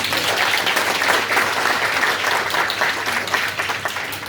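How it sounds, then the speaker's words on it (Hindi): Steady audience applause for guests at a Diwali fair and cultural festival, a dense, fairly loud crowd clapping that continues evenly throughout with no talk over it. "आप लोग ऋषि साहब और मैडम का, अरुणिमा मैडम का लिए ताली बजाए"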